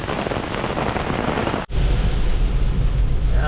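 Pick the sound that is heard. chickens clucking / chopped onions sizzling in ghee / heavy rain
heavy rain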